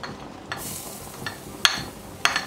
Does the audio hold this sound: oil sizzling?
yes